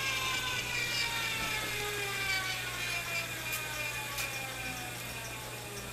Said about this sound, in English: That noise you hear is the brushes on the commutator, and that's the noise it should make.